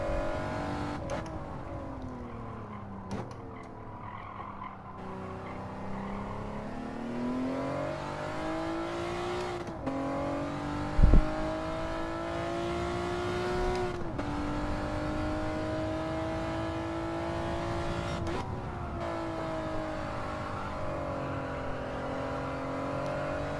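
A car engine in a racing game time trial holds steady high revs with a few sharp gear-shift dips and one brief thump, droning on continuously while the car drifts.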